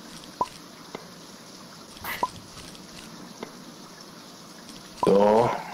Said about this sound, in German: So, es hört auf zu regnen.